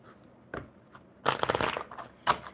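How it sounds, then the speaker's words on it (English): Playing cards are shuffled by hand, heard as a few soft riffles and slaps close by: a brief flick, a longer crackling riffle, then a final snap, with no voices. "So let's shuffle these up real good."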